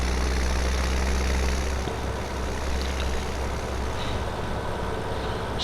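Tractor engine running in Farming Simulator 17: a steady, low rumbling drone that holds constant and loud throughout, with no talk.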